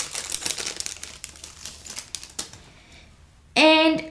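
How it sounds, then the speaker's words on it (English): Crinkly plastic rustling and tearing, close up, in a few bursts, ending with a short loud squeaky chirp. "Take it out of packaging."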